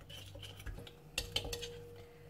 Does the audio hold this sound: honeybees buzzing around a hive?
no